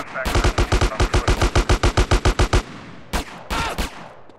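A fast burst of close, loud automatic gunfire in GTA San Andreas, roughly twenty evenly spaced shots, then a brief gap and two more short blasts, all without speech.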